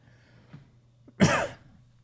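A single short, harsh cough close by after a brief quiet moment, with a faint hum in the background.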